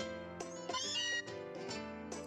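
Stylised cat meows from the Pokémon Sun video game, two or three short tonal mewing calls with game music underneath, close and clear.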